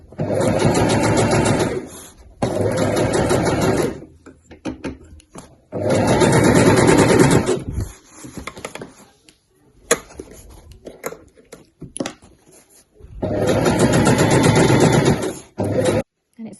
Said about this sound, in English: sewing machine all set up as per normal.